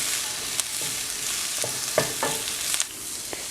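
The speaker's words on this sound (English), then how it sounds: "Cook the broccoli and cabbage together for about 2 to 3 minutes." Broccoli and cabbage stir-frying in a hot pan, a steady close sizzle broken by several sharp scraping stirs and clinks, with no voices.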